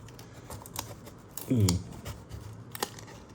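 A knife slicing open the plastic packaging of a Blokees Transformers Galaxy Version 05 toy: a few short, close scratchy cuts and crinkles, with a brief voice in the middle.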